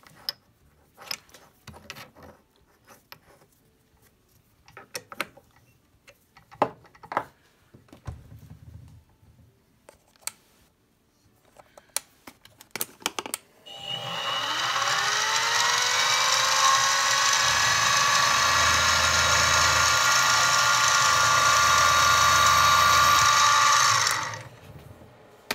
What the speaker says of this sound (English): I'm using this step bit, and I've marked the 5/8 diameter in black so I can tell how deep I need to drill